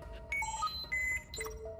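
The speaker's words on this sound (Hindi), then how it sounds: "उसके सेंसर का अलार्म सुनाई दिया" A sensor alarm for a high nicotine level sounds a sparse series of high electronic beeps and tones at irregular intervals, moderately loud over a faint steady background hum.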